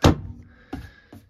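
A portable toilet drawer under the bed of a 1953 Aljoa camper slides back in, ending in a solid thunk followed by two softer knocks as it settles, close and alone with no talk.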